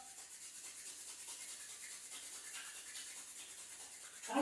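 Soft, continuous friction of hands being rubbed together hard to warm up, a quiet rhythmic swishing heard close and alone.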